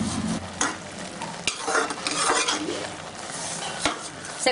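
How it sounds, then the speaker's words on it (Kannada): Beetroot halwa cooked down in milk with added sugar is stirred in a pan. A steady soft sizzle sits under repeated scraping and clinking from the spoon against the pot. "ಸಕ್ಕರೆ ಹಾಕಿ ಕೈ ಆಡಿ,"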